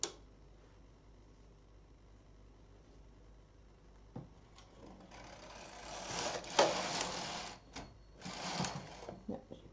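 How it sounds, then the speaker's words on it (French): Waste-yarn rows worked on a Brother KH 940 knitting machine: the carriage swishes and clatters across the needle bed in two louder passes after a quiet start, with no voices. "Et on va tricoter des rangs de fil perdus sur celle-ci."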